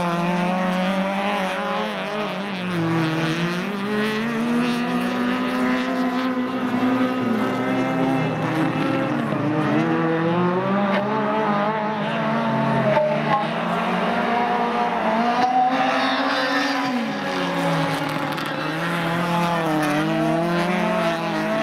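Race cars competing in ice auto racing in Slobodskoy, engines revving loudly and continuously with rising and falling pitch sweeps as the cars pass, several engines overlapping.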